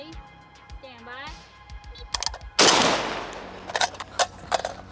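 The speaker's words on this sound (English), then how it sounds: "It shoots so much softer with this ammo" Zastava M77 .308 AK-pattern rifle fired outdoors: loud, sharp gunshots crack in a quick irregular string after a person talks at the start, each shot followed by ringing echo, with voices between shots.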